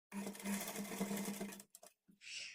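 A sewing machine runs a short burst of stitching on blouse piping, a close, steady whir lasting about a second and a half, followed by a few faint clicks and a soft rustle.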